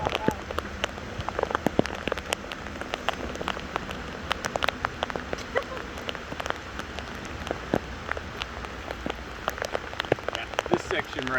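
Rain patters steadily on a surface, dense scattered drops with sharper individual taps throughout, close by and continuous.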